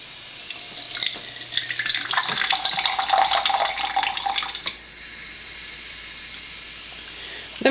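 Water pours from an alkaline water ionizer set to level 1, a steady hissing stream with dripping and splashing that stops after about five seconds, leaving quiet room tone.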